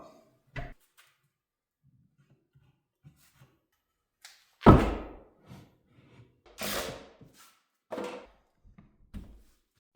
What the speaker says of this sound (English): we're going to bang in some of these supports